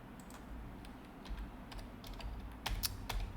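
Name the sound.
typing on a computer keyboard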